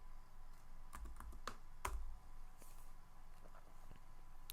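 Keys clatter on a computer keyboard while a command is entered at a Linux console, a quick irregular run of close, crisp clicks with a few heavier strokes, no talk.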